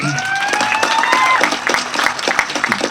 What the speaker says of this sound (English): let's give it a round of applause for our panelists